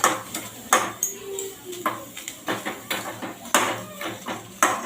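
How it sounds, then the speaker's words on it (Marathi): Onion roasting in a kadhai, with repeated metallic clinks and scrapes of a spoon against the pan over a low sizzle, close and fairly loud. "याच कढईमध्ये आपण कांदासुद्धा भाजून घेऊ"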